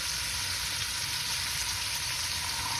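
King prawns sizzle loudly in a pan as ouzo cooks off in a Greek saganaki dish with tomatoes and feta, a dense, even, continuous frying hiss close to the pan without any voices.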